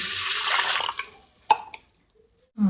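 Water pours in a short splashing stream into a cooker, then stops, leaving a few light drips and clinks before a brief low thump.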